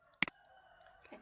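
A computer mouse gives a sharp double click, close and quiet, while shapes are being inserted in PowerPoint. A faint electronic hum sits underneath and a fainter click follows near the end.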